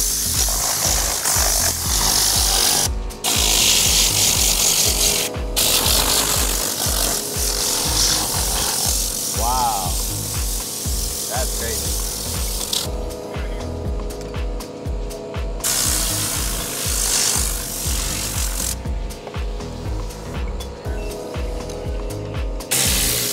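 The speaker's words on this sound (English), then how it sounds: "So let's give it a little TORNADOR action." A Tornador air cleaning tool blasts dust out of a car's vents, dashboard and steering wheel, giving a loud, steady hissing spray of compressed air. It runs nearly continuously with brief cutoffs and a few short pauses.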